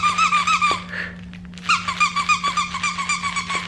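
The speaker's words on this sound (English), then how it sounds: "this has a crinkle and disc squeaker" A dog toy with a crinkle and disc squeaker, squeezed in quick repeated squeaks in two runs with a brief pause between, close and fairly loud over steady background hum.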